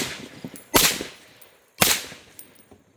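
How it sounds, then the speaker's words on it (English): A Zastava AK-47 rifle is hip fired at targets on an outdoor range, two sharp loud gunshots about a second apart, each with a quick echoing tail, no voices. "gonna hip fire this with the laser."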